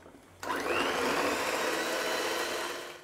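An electric mixer whirs steadily, beating sponge batter for a Swiss roll after vegetable oil and milk, both at room temperature, are added; the motor kicks in abruptly after a quiet moment and runs loud and even, dropping slightly at the end.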